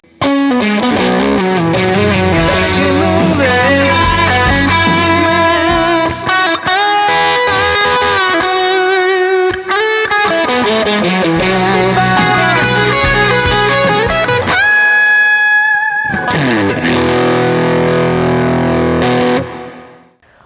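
An electric guitar with Texas Special single-coil pickups plays chords and riffs with a bright, slightly distorted tone, loud and sustained, with brief pauses between phrases.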